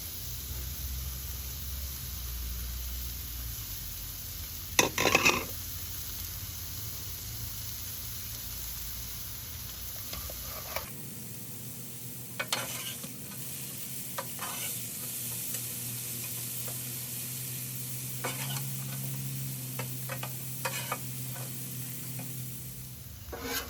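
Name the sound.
snow peas and mushrooms stir-frying, sizzling on a Blackstone griddle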